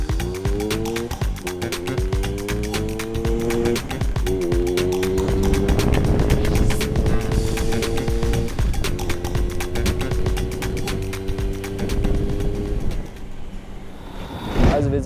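A scooter fitted with a SIP Performance 125 cc racing cylinder rides about 150 metres, its engine droning loud and steady, the pitch climbing and then dropping back several times as it pulls through the gears.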